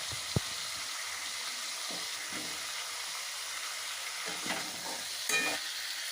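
Chicken stew ingredients, potatoes and carrots included, are stirred in a pan, with quiet, irregular scraping and shuffling over a faint hiss and one sharp clink near the start.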